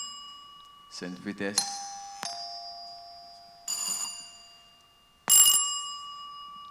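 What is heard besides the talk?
quiz contestant's answer bell being pressed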